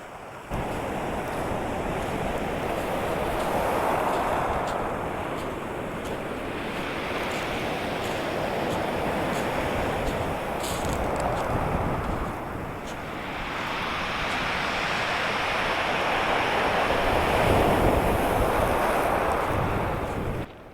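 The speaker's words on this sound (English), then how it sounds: "It's a fair bit of water on the waterfall today," A coastal waterfall running heavy with water gives a continuous, broad rushing roar, swelling and easing, with gusts of wind buffeting over it.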